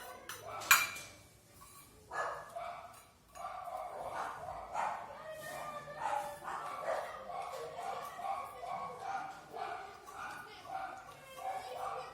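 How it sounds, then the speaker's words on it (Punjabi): A dog barks in a series of sharp, repeated yaps over about twelve seconds, fairly close, with a busier burst near the start. "ਕੁੱਤੇ ਨੇ ਰੋਲਾ ਪਾਇਆ"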